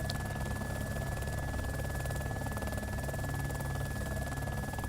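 A Little Bird helicopter in a video game gives off a steady, even rotor and engine drone with a constant whine above it, unbroken throughout.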